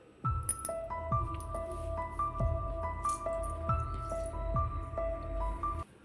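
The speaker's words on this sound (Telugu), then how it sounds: "ఇప్పుడు మనం వీటిని మెత్తగా మ్యాష్ అయితే చేసుకుందాము" Cooked tomatoes being mashed in a pot of dal: wet squishing and dripping pops repeating in an uneven rhythm, close and moderately loud, with no talking.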